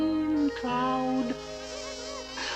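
Buzzing bees around a honey tree, rendered as a cartoon-style whirring drone with wavering pitch, close and fairly quiet, dipping and rising over a couple of seconds.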